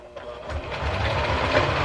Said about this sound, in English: now I'm going to sew it all the way down this end